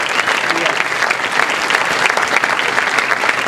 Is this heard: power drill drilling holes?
no